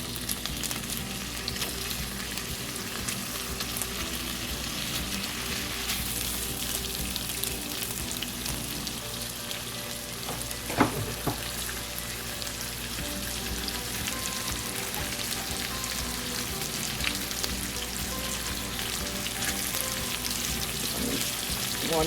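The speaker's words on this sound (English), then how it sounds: "Now I'm going to brown the sausage." Sausage browning in a pot of hot oil for Jamaican chicken and sausage jerk pasta, a dense, continuous crackling sizzle that holds steady throughout, with one sharp clink of a utensil partway through and no voices.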